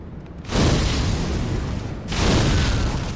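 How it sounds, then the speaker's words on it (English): In Dark Souls 3, an enemy's fire bomb goes off in two loud, roaring bursts, the second swelling up after a short lull and trailing off, with no talk over it. "Oh god, the stupid fire bombs. I hate how enemies have those."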